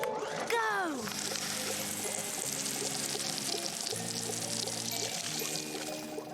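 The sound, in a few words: water poured onto a clam plant in a cartoon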